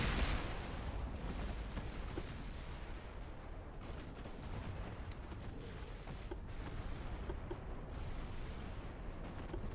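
Naval battle in Ultimate Admiral: Dreadnoughts, a WW2-era game pitting US against Japanese battleships, with a dense, continuous rumble of heavy artillery and distant explosions rolling together without pause.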